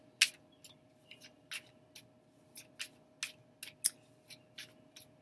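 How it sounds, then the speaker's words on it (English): Tarot cards being shuffled by hand during a love reading, a quiet series of about a dozen short crisp riffling snaps in an irregular rhythm, close and alone over a faint steady hum. "shuffle these a little bit too."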